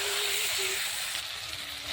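Duck meat hits a pan of fried onion and tomato, giving a steady, soft sizzle and hiss that runs throughout at moderate-low level.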